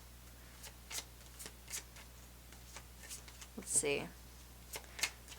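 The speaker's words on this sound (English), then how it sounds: "See if I can just shuffle it like normal." Tarot cards are shuffled by hand close up, a series of soft papery riffles and taps spaced through the quiet, with a brief spoken remark at the start.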